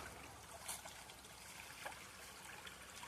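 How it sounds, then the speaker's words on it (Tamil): Water trickles and gurgles softly in a steady flow through a garden channel at a temple in Mattur, Karnataka, faint and continuous, with no voices. "இது வழியாக தண்ணி போகுது பாருங்கள் இந்த தோட்டத்துக்கு"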